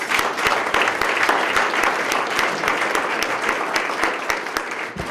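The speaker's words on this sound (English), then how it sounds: "let's give him a big round of applause" Applause from an audience at a Sarasota Police Department swearing-in ceremony, a dense, sustained patter of many hands clapping at fairly close range for the whole stretch, with no voices standing out.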